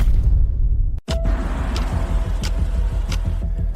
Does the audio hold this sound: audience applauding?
no